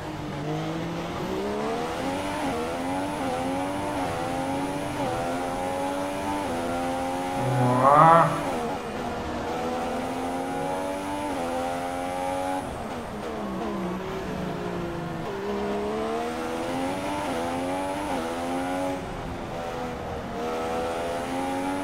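A Formula 1 car in the game F1 2016 at the German Grand Prix screams through repeated rising gear-by-gear acceleration sweeps, a loud close engine whine with a brief rough burst partway through.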